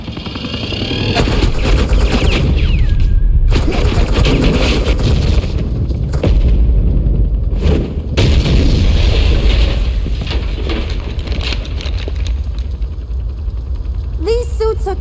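Sustained suppressing gunfire in the video game Batman: The Enemy Within, loud, dense bursts of rapid shots and booms that roll on almost without pause, with brief gaps and a few sharp impacts near the end.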